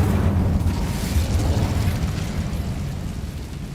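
An Incendio fire spell goes off in Hogwarts Legacy with a loud, low rumbling burst like an eruption, roaring steadily and then slowly tapering off over several seconds.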